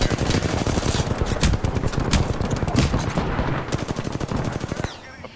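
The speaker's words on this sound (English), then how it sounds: "I think somebody was shooting at me" Rapid automatic gunfire in an Apex Legends match: loud, close bursts of repeated shots with brief pauses, ending in a final burst followed by quiet.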